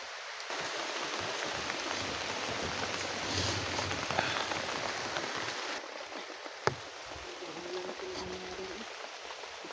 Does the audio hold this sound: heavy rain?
yes